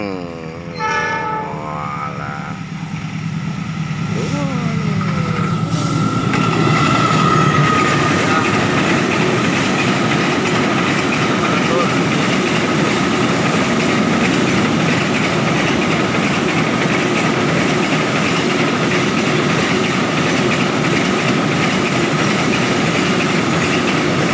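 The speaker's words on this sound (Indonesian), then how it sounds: "Nah ini rupanya yang datang adalah kereta barang lur" A freight train rumbles past close by at a level crossing in Cirebon, Indonesia, a horn sounding early on, then a steady loud roar of wagons and wheels rolling continuously.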